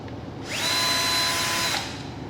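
A power screwdriver runs in one steady whine of about a second and a quarter while backing screws out of an LCD panel during a screen replacement, close and clear with no talk.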